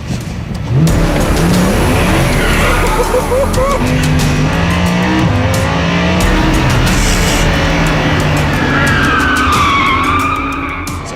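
A Lamborghini Huracán LP 580-2 in Corsa mode is driven hard, its engine loud and close as it revs and climbs through rising and falling pitches, with tire squeal and a voice talking over it.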